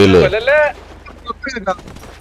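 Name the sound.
gunfire in a video game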